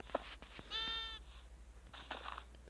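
A Minecraft sheep lets out a single short, quavering bleat, quiet and clear, with faint game clicks and footsteps before and after it.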